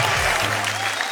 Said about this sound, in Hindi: तालियां सुन आपकी ये हाथ करते बंदगी